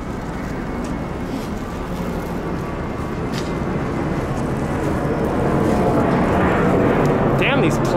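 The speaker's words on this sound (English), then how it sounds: "Damn these planes, dude!" An airplane passes overhead above a New York City street, a broad roar that grows louder toward the end amid traffic noise.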